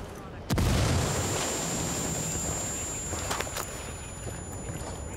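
A frag grenade detonates in Ghost Recon Wildlands with a single loud, deep boom that rolls into a long fading rumble, followed by scattered distant crackles.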